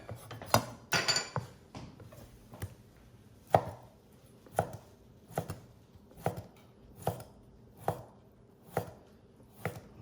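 A knife thinly slices sous vide short rib on a cutting board, giving a steady series of crisp, evenly spaced chops close up, with no talk.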